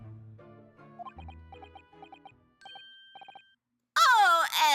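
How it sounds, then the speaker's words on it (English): Bells ringing in a sequence of short, bright chiming tones with gaps between them, followed at the end by a loud burst of close voice. "bells."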